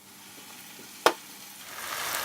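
White wine goes into a pan of chopped tomatoes and sets off a low sizzle. One sharp clink or splash sounds early, and the hiss then rises gradually and continues steadily with no talking.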